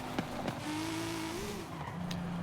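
A 2013 Subaru BRZ with a swapped 2JZ engine in rear-wheel-drive drag trim in Forza Horizon 5, its engine droning and climbing in pitch with tire noise and brief squeals, loud and close, no talk.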